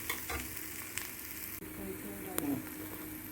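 Chicken parotta cooks in oil on a hot pan, giving a dense continuous sizzle with a brief dip and a sharp clink as it is turned, close and fairly quiet.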